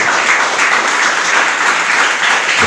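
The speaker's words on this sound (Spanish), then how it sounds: "Denle un aplauso a los que aman a Dios." A church congregation breaks into loud, sustained applause, a dense wash of many hands clapping at once throughout the short clip with no talking on top.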